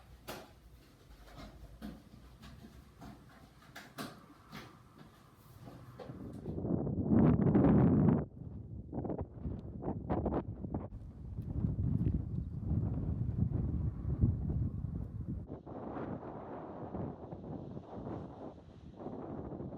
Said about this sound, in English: it's really windy, so we're just sitting in the car